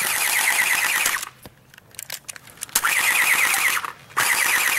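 Gunfire in a staged firefight rings out as loud, dense rattling bursts that open and close the moment, separated by a quieter stretch of scattered sharp cracks and clatter.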